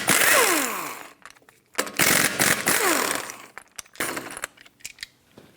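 Lug nuts come off the wheel of a 2012-2020 Ford Focus with a 19mm socket, likely driven by a power tool: loud, close bursts of whirring and rattling with falling pitch sweeps, separated by short pauses and a few clinks.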